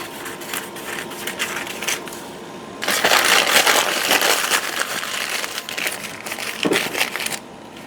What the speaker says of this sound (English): So I'm going to take some packing paper.